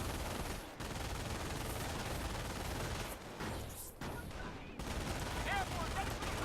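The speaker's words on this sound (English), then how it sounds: "Taking rifle fire." Dense gunfire from the Company of Heroes video game, set in World War II, rattles in continuous bursts of rifle and machine-gun shots, with a few short gaps and voices under the din.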